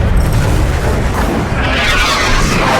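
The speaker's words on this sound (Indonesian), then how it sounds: "suara meriam tersebut memekakkan telinga" A giant Basilica cannon fires a heavy stone at Constantinople, a loud, deep, rumbling boom that fills the whole stretch and is layered with dense battle noise.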